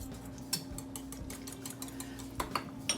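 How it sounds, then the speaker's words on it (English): A small whisk taps and scrapes inside a bowl as sauce is mixed for a slow cooker dinner, with faint irregular clinks over a low steady hum, quiet and close. "Let me get my little whisk. And, alright, so I'm going to mix this all together."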